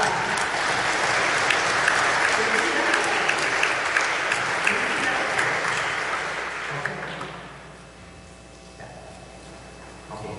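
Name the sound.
congregation applause in church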